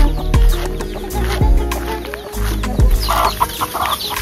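Several chickens cluck repeatedly close by, with short, rhythmic calls and a few louder squawks, against a busy outdoor background on the island of Antigua.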